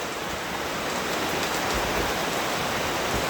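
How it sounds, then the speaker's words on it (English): Heavy rain from Hurricane Ernesto pours down as a steady, dense wash of hiss and patter, constant and fairly loud throughout with no breaks. "It's a downpour. Ernesto has come to town."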